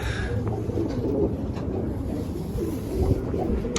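A four-year-old blue (gök) male Turkish flying pigeon coos in low, steady murmurs, with light wind and faint background noise around it.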